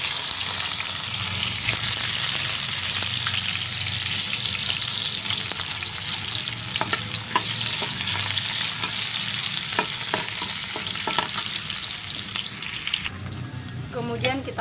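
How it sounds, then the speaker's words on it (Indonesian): Garlic and shallots sautéing in hot oil, a dense continuous sizzle with scattered stirring clicks and scrapes near the end, close and steady. "Kemudian kita masukkan bawang putih dan bawang merahnya."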